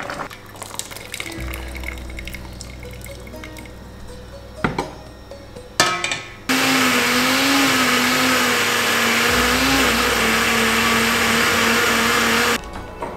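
A blender whirs loudly and steadily for about six seconds, puréeing cooked spinach into a paste in an Indian home kitchen, with quieter kitchen clatter before it starts.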